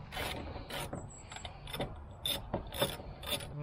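A ratchet clicks as it backs out a 10 millimeter bolt from the rear hatch trim of a fifth-generation Toyota 4Runner: several bursts of quick ratcheting, close and fairly loud, with short pauses between them and no talk.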